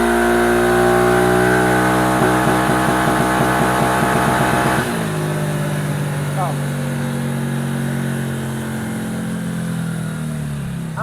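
A Yamaha Fazzio scooter's light engine revs hard on a dyno during a baseline run, a loud rising whine with harmonics that suddenly cuts off, then idles down with a lower steady drone.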